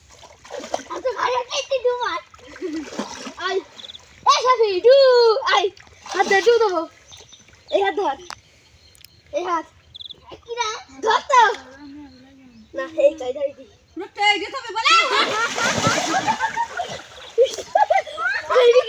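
Boys splash and dunk repeatedly in a village pond, with bursts of water sloshing and splattering close by, often under their excited shouting and chatter.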